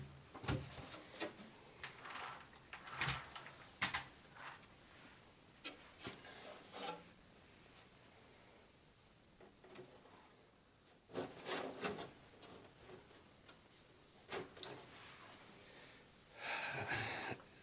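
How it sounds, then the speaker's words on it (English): Plastic body shell of a Tamiya CC01 Defender 90 RC car lifted off its chassis, with scattered close rubbing, scraping and knocking bursts separated by quiet pauses, strongest near the start and end. "Let's go ahead and take the body off the chassis."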